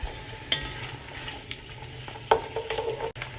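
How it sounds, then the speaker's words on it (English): Five bean chilli ingredients stirred together in a pan with peas, giving soft scraping and knocking strokes over a faint sizzle, close and quiet with no talking. "Just going to mix this all together."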